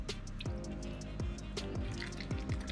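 An octopus being rinsed in water outdoors, with repeated drips and small splashes falling into liquid in an irregular rhythm over a steady wet background, fairly close.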